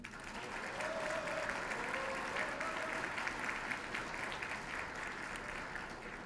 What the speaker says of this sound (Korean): 동의하시면 박수 한번 쳐주십시오.